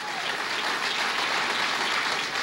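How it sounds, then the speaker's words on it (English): Audience applause for former Congressman John Boccieri at an elementary school event in Poland, Ohio: a dense, steady wash of clapping from a large crowd, sustained evenly from start to finish. "a round of applause."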